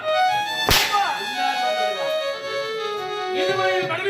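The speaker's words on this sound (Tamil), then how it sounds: "இன்று அவனை நான் சாட்டை கொண்டு வந்தேன்" A single sharp whip crack snaps loudly near the start of a Tamil village stage drama, set against sustained harmonium-like musical tones that continue throughout.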